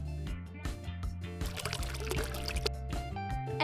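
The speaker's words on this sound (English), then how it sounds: "Pour the jelly into the watermelon cup" Liquid berry jelly is poured into a hollowed-out watermelon cup, giving a splashing trickle that swells in the middle and eases off, beneath background music.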